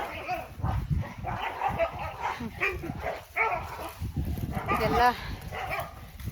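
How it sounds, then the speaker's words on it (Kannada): A dog on a farm plantation barks and yips in short bursts mixed with whimpers, fairly close, while people talk over and around it. "ನಾಯಿ ಕರ್ಕೊಳ್ಳೋ."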